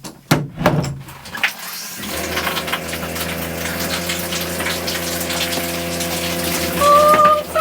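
Cold water gushes and pours steadily outdoors in the woods, a continuous loud rushing stream with a pump-like drone, preceded by a few brief knocks and clunks.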